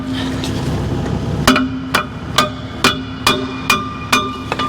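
A steel hammer strikes a lock pin on an excavator's undercarriage track: a run of seven or eight sharp metallic blows, close and evenly spaced, ringing over a low engine hum.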